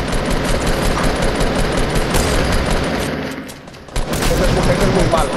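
Heavy sustained gunfire in a Fortnite squad match, dense rapid bursts and shots running almost continuously, loud and close, with a short lull before the shooting resumes.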